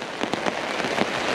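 Heavy rain drums steadily on a parachute shelter in the woods, a dense, continuous patter with occasional louder drops standing out, close and enveloping, with no voices.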